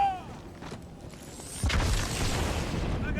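A grenade detonates in the video game Halo 2, a dull mid-distance boom that swells and then rumbles on as a sustained roar amid game ambience.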